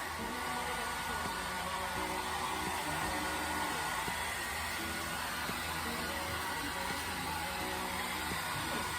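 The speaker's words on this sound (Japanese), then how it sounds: "こうやってドライヤーしようかね。" A hair dryer blows steadily on a dog indoors, a soft, even whooshing hum that holds at low volume from start to finish with no voices.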